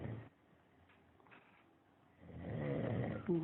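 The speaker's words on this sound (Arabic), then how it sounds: "لا يا مو يشخر" A young Saudi man snores while asleep; a quiet, breathy stretch gives way to one rough, rattling inhale snore near the end, close and fairly loud against an otherwise hushed room.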